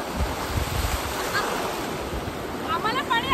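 Sea waves wash and surge at Harihareshwar beach on the Konkan coast, with rushing surf and wind buffeting close by, and a brief voice near the end.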